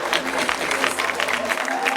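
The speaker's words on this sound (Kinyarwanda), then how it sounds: "amashyi menshi" Clapping rises from a wedding audience, a brief burst of scattered applause mixed with voices.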